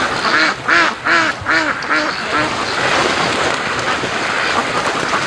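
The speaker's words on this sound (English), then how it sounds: "here comes the Muscovy." Ducks raised free range at a backyard lake, a male Muscovy among them, giving a rapid series of loud close quacks in the first two seconds before a steady wash of rain-like background noise.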